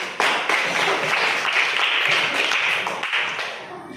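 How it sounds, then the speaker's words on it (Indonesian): A classroom of students claps for a student group after its presentation, a dense steady patter of many hands that fades toward the end. "kasih tepuk tangan sekali lagi"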